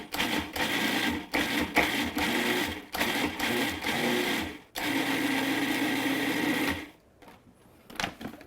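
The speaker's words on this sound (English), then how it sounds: "I'm going to pulse again until it looks crumbly" A food processor pulses cracker dough with olive oil in repeated short whirring bursts separated by brief pauses, loud and close, with no talking.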